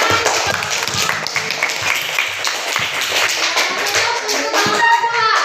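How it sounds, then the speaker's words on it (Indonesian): A school class claps hands together in a classroom, a burst of fairly close, uneven clapping from many children with some rhythmic patting mixed in, and young voices chattering faintly underneath toward the end. "Oke, tepuk tangan."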